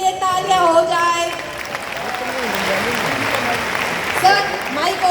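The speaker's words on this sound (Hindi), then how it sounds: "तो एक बार की सोल की टीम के लिए तालियां हो जाए।" An audience at a women's RCM event applauds, a broad wash of clapping that swells and holds for several seconds while a voice speaks over the start and end.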